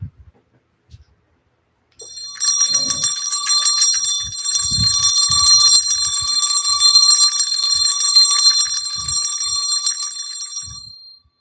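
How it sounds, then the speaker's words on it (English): An antique hand bell rings continuously for about nine seconds, a bright, shimmering metallic jangle close by, followed by a few soft knocks and handling sounds. "I also have a bell from my grandmother."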